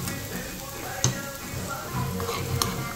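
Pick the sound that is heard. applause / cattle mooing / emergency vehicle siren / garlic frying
garlic frying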